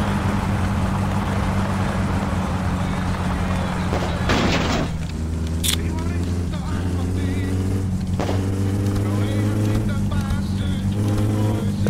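Engine of a car in My Summer Car speeding up on a downhill stretch, a steady loud drone with rising harmonic sweeps and shifts, and a voice talking over it.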